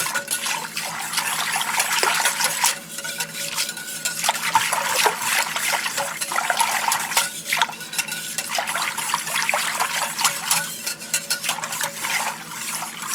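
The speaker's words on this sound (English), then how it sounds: "Give that a whisk." A whisk stirs balsamic sauce with seasonings in a bowl, giving a continuous wet, clinking swirl up close for the whole stretch, with no talk.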